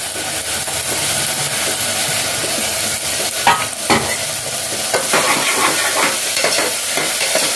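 Onions and green chillies sizzle in hot oil for a mutton curry, a loud, steady frying hiss broken by a few scraping stirs, with no voices.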